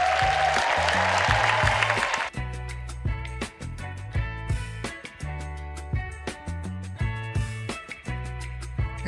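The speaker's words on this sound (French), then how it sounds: "3600 touristes applaudissent le show d'1 heure et demie" A packed Las Vegas theatre audience of about 3600 applauds at a Cirque du Soleil show, a dense roar of clapping at first, then broken by loud rhythmic musical hits and chords.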